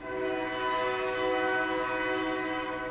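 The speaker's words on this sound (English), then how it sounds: "And there goes the noonday train." A passing train's horn sounds as one loud, sustained, steady chord that holds for the whole stretch over a low rumble, with no one talking.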